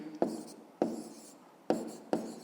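Pen strokes while numbers are written out for a fifth-grade maths exercise, four short scratchy bursts in an uneven rhythm, close and fairly quiet, with no talk over them.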